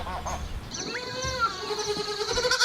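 A duck gives a series of loud, nasal, honking quacks close by, running together over a faint noisy background.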